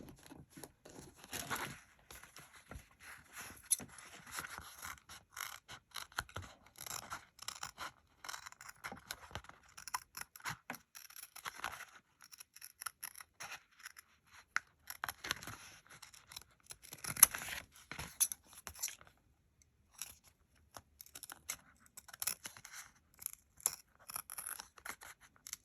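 Scissors cutting out fabric pieces for handmade earrings, a long run of small, close snipping and crisp slicing sounds in irregular bursts, quiet and with no talking.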